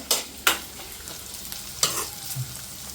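Shallots sautéing in a pan sizzle softly while a spoon scrapes and clinks a few times against the metal, close and without talking.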